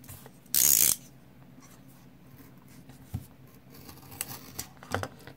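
Scissors snipping through folded colored paper for an origami cube, a series of small crisp cuts and rustles close by after one loud burst of scraping friction.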